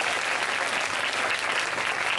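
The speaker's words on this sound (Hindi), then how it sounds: "जोरदार तालियां" Loud, steady applause from an audience at an outdoor Christian projector show in Churpura, Pakistan, a dense wash of clapping that stays level and continuous throughout.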